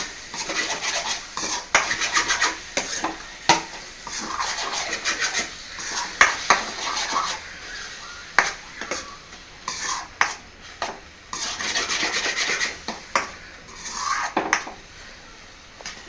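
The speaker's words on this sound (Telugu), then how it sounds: "ఇప్పుడు ఒక స్పూన్ ఇలా వేసాను కూరని మొత్తం గుడ్డుతో ఇలా కలుపుకుంటే" A spoon stirs cucumber and egg curry, seasoned with homemade coriander, clove and cinnamon masala, in a pan, making close, irregular scraping and clinking strokes that repeat steadily with no voices.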